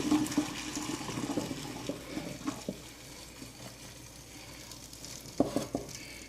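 Water is poured off pot-cooked brown rice after a 30-minute cook, a splashing, gurgling stream with small bubbling bursts that gradually thins, a fresh splash coming near the end.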